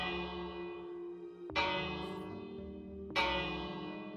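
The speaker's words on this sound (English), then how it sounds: "There is a bell sound." Minecraft bell from the game's 18w50a snapshot, struck twice about a second and a half apart, each hit a bright metallic clang that rings on and decays over a steady low hum.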